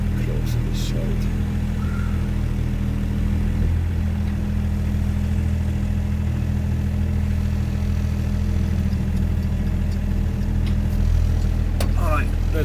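A diesel car engine idling while warming up on a frozen cold day, a steady low rumble with a faint knock, close and continuous, with a few clinks of work in the background.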